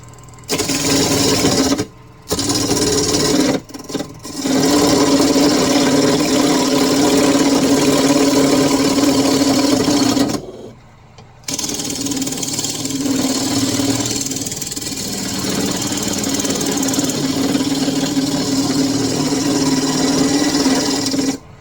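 A belt-driven wood lathe with a badly worn belt turns a walnut candle holder, giving a loud, steady machine whine with gouge scraping and rasping on the wood, broken by brief pauses and a restart partway through.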